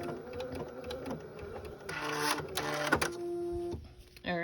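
A Bernette 79 sewing machine runs its automatic thread cutter, giving a mechanized whirring and clicking burst up close, with machine hum and some speech mixed in around it.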